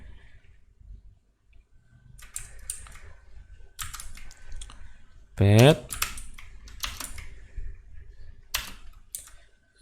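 Clicky keystrokes on a new computer keyboard while entering a PHP artisan migrate command, in scattered bursts under steady talking from a nearby voice.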